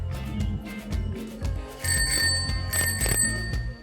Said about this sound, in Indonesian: Oke ya, cukup nyerdu dan nyaring ya. Jadi belnya seperti ini, unik banget.